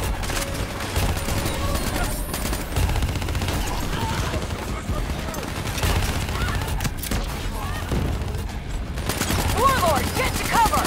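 Sustained automatic gunfire rattles in Call of Duty Black Ops 3, with rapid, close bursts layered with more distant shots and battle noise throughout.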